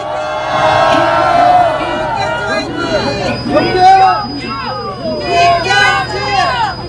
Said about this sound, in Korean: 우리 뜨거운 함성과 박수로 맞이해 주시기 바랍니다